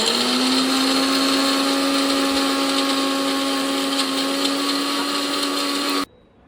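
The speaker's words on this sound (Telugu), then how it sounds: "ఇప్పుడు దీంట్లోనే మళ్ళీ వేసేసి మళ్ళీ గ్రైండ్ చేసేద్దాం." A kitchen mixer grinder whirs loudly and steadily as it grinds dry fruits for juice, its motor whine holding constant until it cuts off abruptly near the end.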